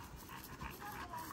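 A male XL Pitbull pants with quick, soft breaths close by, faint and brief, while a person talks over it.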